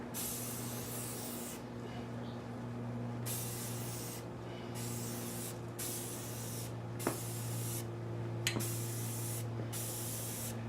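Continuous spray painting of a motorcycle part for a Suzuki GS550 cafe racer, a close steady hiss broken by short pauses between passes over a low background hum, no voices.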